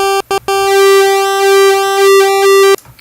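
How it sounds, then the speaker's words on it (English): A bright, nasal synthesizer pulse-wave note stutters briefly, then sustains for a couple of seconds with slight timbral wobble before stopping. "a pulse wave,"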